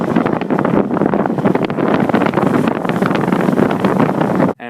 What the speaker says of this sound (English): Driving on the Salt Flats.